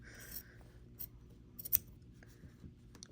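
Scissors snip a few times at the pocket of a fabric crossbody bag, close and fairly quiet, with light rubbing and handling of the cloth between the cuts.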